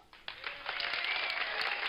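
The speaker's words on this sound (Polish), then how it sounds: "klaśnij w dłonie" Several hands clapping together in a steady burst of applause, close and fairly loud, continuing throughout without talk.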